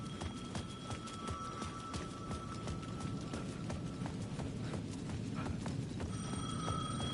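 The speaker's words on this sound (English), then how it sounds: "The payphone at the edge of the plaza was ringing again." A payphone on the edge of a plaza in the video game Alan Wake 2 rings in repeated metallic bursts, faint and distant over a steady rattling ambient bed.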